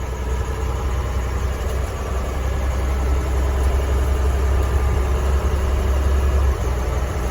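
The Cummins-powered BlueBird bus engine, revived after being bought for $1,200, runs at a steady, low, droning idle throughout a gear change. The rumble stays close and even, with no clear shift in pitch and no talking.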